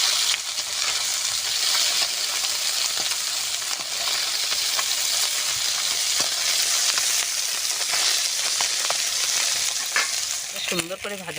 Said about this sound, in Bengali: মাছ ভাজার জন্য কড়াইতে দিয়ে দেবো সরষের তেল।